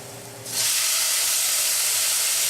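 Tomatoes go into a pot of sautéed garlic for a homemade pizza sauce, setting off a sudden loud, steady hiss of steam and sizzling that starts after a brief quieter moment and holds strong to the end, with no voices.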